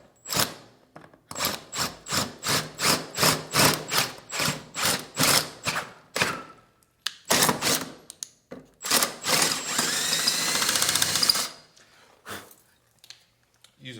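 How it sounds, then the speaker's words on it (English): Drilling out a stripped screw hole in a Masonite door threshold rail: a close run of rhythmic scraping strokes, a few irregular bursts, then a sustained two-second grinding whir before falling quiet. "Take your drill bit from the kit that's already marked to the depth that it needs to be drilled"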